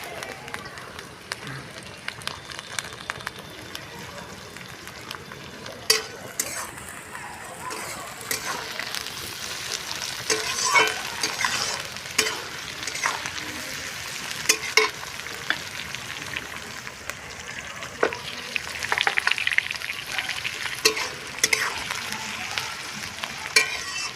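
Cauliflower and other vegetables fry in a pan with a continuous close sizzle and intermittent stirring scrapes throughout, fairly loud, with speech faintly present in places.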